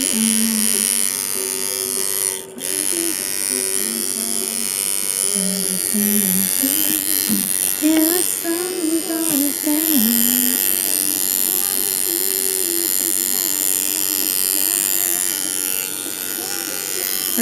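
A tattoo machine buzzes steadily and loudly while needles are rinsed, its drone holding nearly unbroken throughout with slight pitch wavers as a person talks over it.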